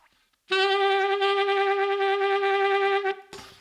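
A single sustained saxophone note held for a few seconds with a fast, nervous, bleating vibrato wobbling its pitch, then stopping abruptly.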